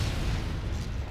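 A rocket jump explosion in Team Fortress 2, one heavy, dense booming blast that stays loud for about a second, close up and with no voices.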